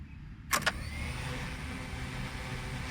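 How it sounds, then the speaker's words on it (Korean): The brushless motors of a K102 MAX toy drone spin up after a short click, settling into a smooth, steady whir that holds at an even pitch, fairly quiet and close. "자, 브러시리스 모터에 회전하는 소리."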